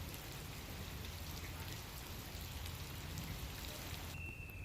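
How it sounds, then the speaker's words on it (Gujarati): Heavy monsoon rain pours down in Umargam, Valsad, a dense, unbroken hiss of drops striking surfaces, loud and steady from start to finish with no voices. "વલસાડના ઉમરગામમાં ધોધમાર વરસાદ"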